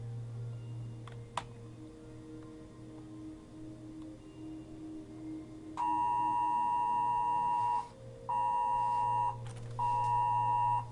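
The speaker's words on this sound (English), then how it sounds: "And that's my phone." Phone emergency alert for a flash flood warning, several loud repeated electronic tones sounding in long pulses after a quiet stretch with faint clicks and low background hum.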